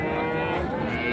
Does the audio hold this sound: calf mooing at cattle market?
yes